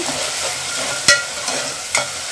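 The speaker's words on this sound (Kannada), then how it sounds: "ಈರುಳ್ಳಿ ಬೇಗ ಬೇಯುತ್ತೆ ಹೀಗೆ ಹೈ ಫ್ಲೇಮಲ್ಲೇ ಇಟ್ಬಿಟ್ಟು ಈ ಥರ ಚೆನ್ನಾಗಿ ಮಿಕ್ಸ್ ಮಾಡ್ತಾ ಇರಬೇಕು" Onions frying on high flame in a pan, a steady loud sizzle with two sharp scrapes of a spoon stirring through them, close and without talk.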